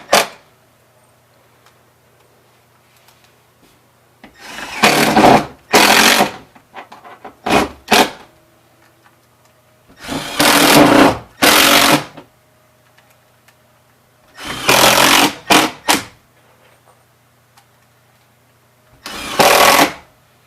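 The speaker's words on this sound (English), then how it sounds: "This is an impact drill." Impact drill driving screws through a drywall patch into a wall, heard as several loud bursts of one to two seconds each, separated by quiet pauses, close to the microphone with no talking.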